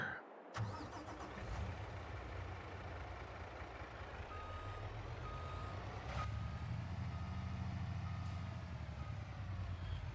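Truck reversing beeps from Farming Simulator, a steady repeating electronic tone over a continuous low engine rumble throughout, with no talking.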